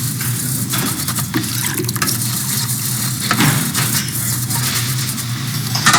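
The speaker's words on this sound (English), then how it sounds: "wash everything in the first sink and change the detergent solution when the suds are gone or when the water becomes dirty" Water runs steadily into a commercial kitchen sink while dishes are washed in detergent solution, a continuous close splashing wash with faint clinks and no talking.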